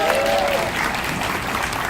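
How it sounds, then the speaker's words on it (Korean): A crowd at a candlelight rally supporting striking Hyundai-Kia subcontract workers claps together in a brief, dense burst of applause, fairly loud and close, with no speech over it. "동지들, 그 동지를 위해서 박수 한번 쳐주셔야 되지 않겠습니까?"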